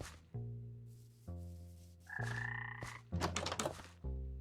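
A frog in a modded Minecraft village croaks in repeated low, resonant bursts, with a couple of brighter, busier game sounds in between, close and alone.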